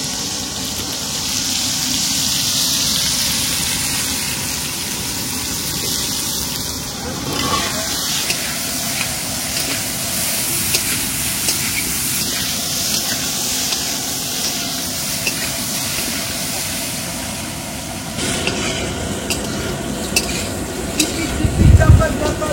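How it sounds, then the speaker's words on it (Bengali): Potato pieces fry in a pan with salt and turmeric during village-style outdoor cooking in a garden, a loud, continuous sizzling hiss that holds steady, ending with a few scraping clinks. "মোটামুটি ভাজা কমপ্লিট। এবার আমি তুলে দিলাম আলুগুলো।"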